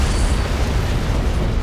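Antimatter charge detonating aboard a ship in a Halo CE cutscene: a loud, dense, sustained rumbling blast filling the whole stretch with no clear onset or gap.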